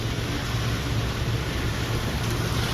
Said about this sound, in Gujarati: કેટલો ફૂલ વરસાદ પડે છે જોઈ શકો છો તમે